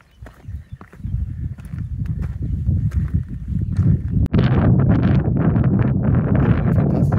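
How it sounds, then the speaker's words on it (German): Strong wind buffets the microphone on a mountain ridge bridleway in Mallorca, starting softer and then roaring into a loud, sustained rumbling gust after a brief dip. "Wir haben einen fantastischen Wind."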